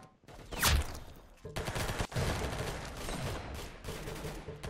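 Loud, rapid bursts of video game gunfire crackle almost continuously, with a sharp whooshing sweep near the start and dense overlapping shots throughout.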